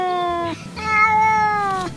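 A cat gives two drawn-out, tonal meows close by, the second longer and rising then falling, sounding almost like spoken syllables.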